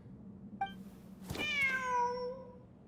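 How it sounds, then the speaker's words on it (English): A cat in the video game Genshin Impact gives a short chirp and then one long, drawn-out meow that slides downward, close and clear over quiet background ambience. "Wait, there it is! The cat!"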